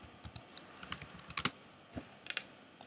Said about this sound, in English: and I can type